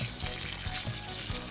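Collected rainwater pours out of a rain gauge onto the ground outdoors, a soft, steady close trickle and splash lasting a moment with no talking.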